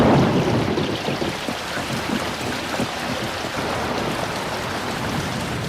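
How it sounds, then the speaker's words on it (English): Steady heavy rain pours down at a fishing village in the Amazon, a dense continuous hiss of drops with no voices. "At the village of Floresta, the rains have already arrived."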